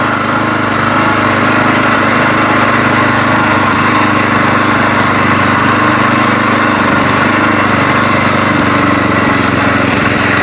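A Loncin LC-1200 walk-behind tractor engine pulling away in first gear: a loud, close, steady single-cylinder drone with a rapid mechanical clatter that holds without a break.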